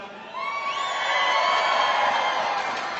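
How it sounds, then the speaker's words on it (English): A crowd at a Bassmaster Classic fishing weigh-in cheers and whoops for the anglers, a loud sustained roar of voices with some high yells rising over it. "you guys have to cheer our anglers on"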